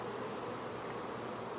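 Honeybees taken from a hive super above the queen excluder buzz in a steady, faint, continuous drone with no talking.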